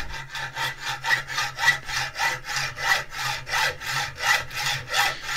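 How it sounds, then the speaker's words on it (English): A hacksaw trims a small rod off a .38 special brass jewellery piece with steady, even back-and-forth strokes, about a dozen rasping passes at a regular rhythm, close and clear. "It's important when you're doing hacksaw work."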